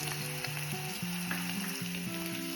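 Meat frying for idiyirachi in a pan as spice powders are stirred in, a dense continuous sizzle with scraping stirring strokes, close and steady, no voices.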